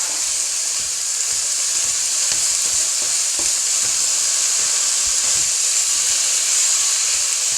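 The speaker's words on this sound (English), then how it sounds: "I'm gonna just add my mince to the pan. And brown it off." Beef mince browning in a frying pan gives a steady, loud, even sizzle and hiss that runs throughout, with faint stirring scrapes and no talking.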